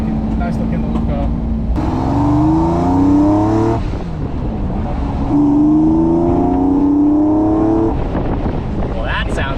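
A Land Rover Defender with a swapped Corvette V8 revs at about quarter throttle, loud and close, in two rising surges that drop back to a rumbling idle between them.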